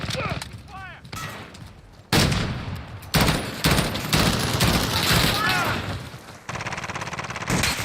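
Rapid bursts of M4A1 rifle fire from Call of Duty Modern Warfare crackle loudly and repeatedly in a multiplayer match, with a voice talking over the shooting.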